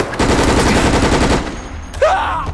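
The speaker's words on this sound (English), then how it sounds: "Are you shooting that shadow?" Gunfire in the video game Resident Evil: Operation Raccoon City, a loud, close rapid burst of automatic fire lasting over a second, followed by a short whooshing effect.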